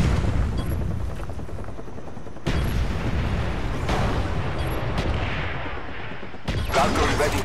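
Artillery strike killstreak in Call of Duty: Black Ops: a dense, loud barrage of explosions and gunfire rolling on without pause, with sharper blasts bursting through at a few points.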